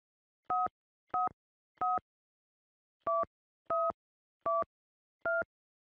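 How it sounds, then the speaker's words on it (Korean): Seven tone beeps of a telephone number being keyed in an office, each short and clean, spaced in an uneven rhythm with a longer gap after the third, alone against silence. "사장님이 잠깐 나가셨는데 제가 전화해 볼게요."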